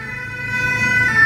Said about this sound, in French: Encore ces putains de sirènes.